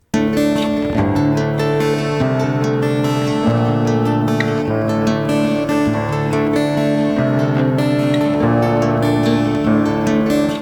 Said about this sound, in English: So I went in and played the same chords on the piano